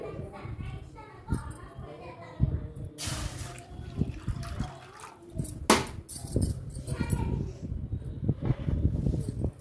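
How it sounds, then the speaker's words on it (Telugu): Half a glass of water poured into a pan on a lit stove for a wheat flour and coconut milk halwa, heard as a short splashing pour and drips amid clatter while someone talks and a voice chimes in. "వాటర్ సగం గ్లాస్ పోస్తున్నా అండి"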